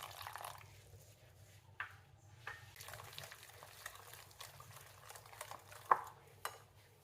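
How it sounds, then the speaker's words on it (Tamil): A spoon quietly stirs flour, water, melted butter and a little salt into a thin batter for Korean bread, soft wet scraping with a few sharper clinks against the bowl. "ஒரு தோசை மாவு பதத்துக்கு கலந்து எடுத்துக்கிடுவோம்."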